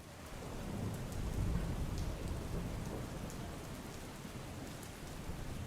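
Heavy rain pours in a continuous, even wash with a low rumbling undertone, heard from a distance and fairly soft, during flooding in Keshod, Junagadh.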